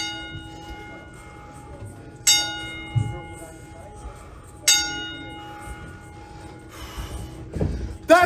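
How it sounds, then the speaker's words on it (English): A ringside bell at a wrestling event strikes three times, each a bright ringing clang spaced a couple of seconds apart and decaying over a steady tone, followed by louder crowd and room noise. "my sister did not get a proper 10 bell salute"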